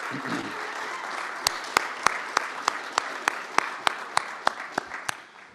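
A crowd claps at a Carbon to Value kickoff event, a dense wash of applause with some sharp individual claps standing out near the mic, fading toward the end.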